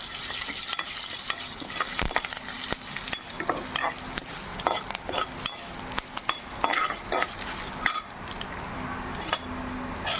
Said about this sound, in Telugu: ఇప్పుడు కరివేపాకు కూడా వేసుకుందాం